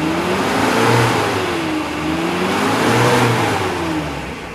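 Suzuki Carry 1.5 pickup from 2008 revved hard to 3000–4000 RPM, a steady loud mid-pitched engine drone that rises and falls in two slow swells across the clip, with no voices over it.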